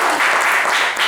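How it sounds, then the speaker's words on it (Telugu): Audience at a devotional storytelling performance breaking into applause, a brief loud burst of dense clapping with no voices. "ఒకసారి ఆయన చప్పట్లు పెడతాం"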